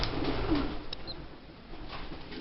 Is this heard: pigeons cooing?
yes